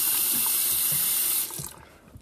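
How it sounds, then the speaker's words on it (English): Cold tap water runs steadily into a sink as someone washes their face in the morning, a close, even splashing rush that cuts off partway through, leaving a few faint drips and handling sounds. "I was finally able to wash my face, which I really just like doing with cold water"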